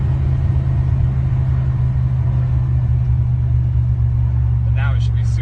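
Chevy OBS truck engine running after a throttle-body-injection to carburetor swap, a steady loud low rumble at idle throughout, with a brief voice near the end.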